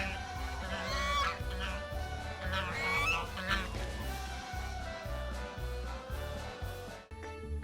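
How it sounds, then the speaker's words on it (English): Geese honking over a steady thumping background beat, the calls rising and falling in a busy, layered chorus before ending abruptly. "he hid among geese who betrayed him with their honking."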